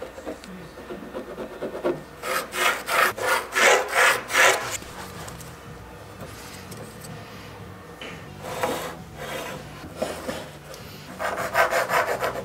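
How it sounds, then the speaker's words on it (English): Jigsaw cutting socket openings in wood, heard as a loud burst of rapid rhythmic strokes early on, then quieter rasping and a shorter second burst near the end, with no voices. "And then use the jigsaw to cut them out."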